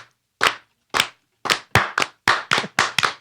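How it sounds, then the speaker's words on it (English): Eight sharp, loud claps in an uneven rhythm ring out clearly, as people in a live talk-show setting clap along to a beat. "Everybody clap and beat."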